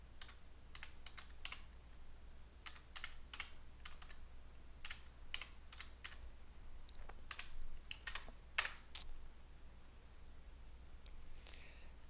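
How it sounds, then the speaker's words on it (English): Typing on a computer keyboard while entering a conda version command at a terminal on a server, a quick irregular series of sharp key clicks in small bursts over low steady hum, no talking. "we type conda -- version"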